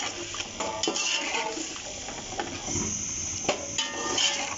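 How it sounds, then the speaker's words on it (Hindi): Boiled chickpeas tipped into a pot of masala for Kabuli pulao, with clinks of a metal spoon against the pot and soft stirring scrapes, close and fairly quiet, no talking. "अब ये बॉयल हुए हुए चने ये मैं इसके अंदर डाल दूंगी।"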